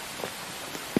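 Rain falls steadily in the Roblox horror game The Mimic, a constant wash of patter with a couple of heavier drops landing close by.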